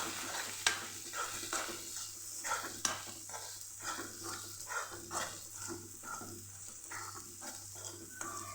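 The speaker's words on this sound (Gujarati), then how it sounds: "માંડવીના દાણા અને તલ બંને કાચા લીધેલા છે અત્યારે આપણે ઉમેરે છે એટલે સરસ સાતળી લેવાનું છે" Raw peanuts and sesame seeds being sautéed in a pan for a Kathiyawadi green val bean curry, a soft steady sizzle under repeated scraping stirs, with a couple of sharp clinks of the spoon against the pan.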